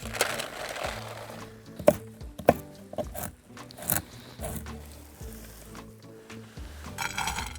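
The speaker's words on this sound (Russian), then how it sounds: "я просто мелко рублю их ножом" A knife chops walnuts on a wooden board in scattered sharp knocks, a few loud strikes among quieter taps, with soft music in the background.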